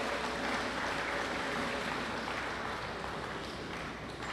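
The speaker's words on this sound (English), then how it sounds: "So give yourself a round of applause." An audience at a Christmas program in a prison claps in a steady, muffled patter that sounds distant and fairly faint. It runs unbroken for a few seconds with no talking.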